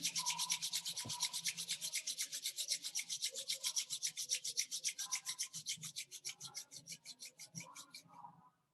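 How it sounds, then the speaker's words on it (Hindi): Palms rub briskly together in a fast, even back-and-forth rhythm, dozens of dry swishing strokes close to the ear, slowing slightly near the end against a quiet background. "हाथों को रब कर लेंगे।"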